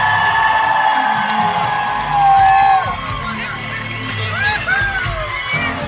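Crowd cheering, whooping and shouting for the band at a concert in Albuquerque, New Mexico, a dense, loud roar throughout that swells briefly in the middle.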